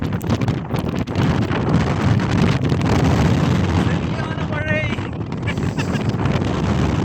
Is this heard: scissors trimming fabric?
no